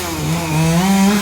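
A chainsaw cuts up a tree during garden clearing at a farmhouse, its engine holding a loud, steady, near buzz that rises slightly in pitch partway through.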